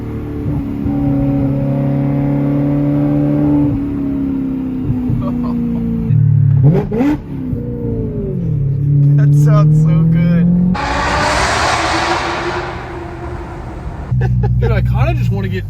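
Straight-piped BMW E92 M3 with loud exhaust, V8 revving close by in repeated swelling blips and a raspy crackling climb, with people talking and exclaiming over it.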